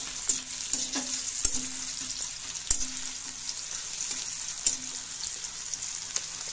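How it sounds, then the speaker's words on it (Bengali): Chopped onion frying in a hot kadai: a steady, bright sizzle with occasional soft scrapes and light taps of a stirring utensil, fairly close, with no talking. "মা পেঁয়াজ কুচিটা ছেড়ে দিল। পেঁয়াজ কুচিটা সুন্দর করে ফ্রাই করে নিতে হবে"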